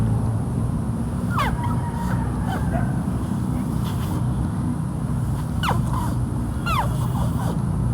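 Several short, thin downward-sweeping chirps from a kalambat call instrument come at scattered moments against a steady low background hum.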